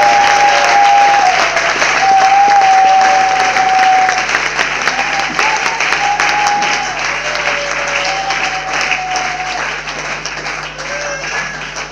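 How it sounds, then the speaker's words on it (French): Congregation at a church service applauding and clapping for Jesus, a loud, dense and sustained wave of applause lasting throughout, slightly tapering toward the end. "Clap for Jesus."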